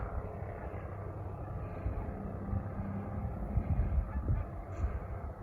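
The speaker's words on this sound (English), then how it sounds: "Some of the geese are headed out." Geese honk intermittently as they fly off over a burning marsh forest near a duck blind, the calls moderately distant and partly masked by a constant broad roar of fire and wind.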